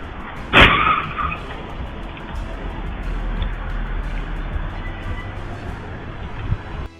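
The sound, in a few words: speeding car skidding and crashing into parked vehicles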